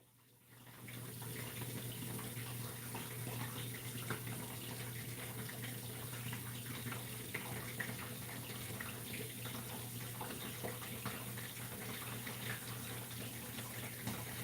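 Running water filling a machine, a steady hiss and gush that starts abruptly after a quiet moment and continues evenly, fairly faint, with no voices.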